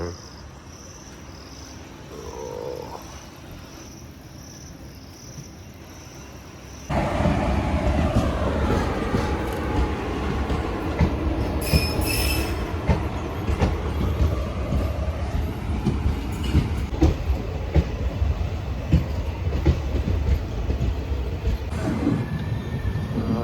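A train runs over Pamban bridge at Rameswaram, starting with quiet ambience and insect chirps, then a loud, sustained rumble and rattle of rail cars passing close by for the rest of the stretch.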